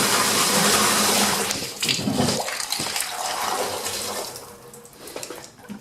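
A Zoeller M63 sump pump, fitted with a check valve, pumps out water in a loud, near gushing rush that eases and thins after the first couple of seconds into a softer, steadier flow.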